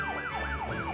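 Cartoon police siren wailing in repeated rising-and-falling sweeps, three full cycles, loud and steady with no talking.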